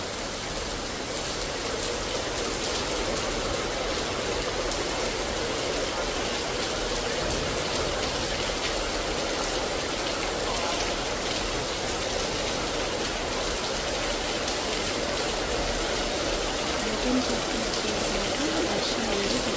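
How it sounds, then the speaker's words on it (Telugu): Heavy rain pours steadily near Annavaram temple on Ratnagiri hill, a dense, even hiss that holds loud and unbroken throughout. "వర్షం చాలా పెద్ద వర్షం పడింది."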